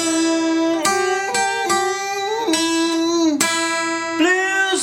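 Acoustic blues guitar in Delta style, playing a verse of a song with sharp plucked attacks, bent and sliding notes, and ringing strings, close and alone without voices.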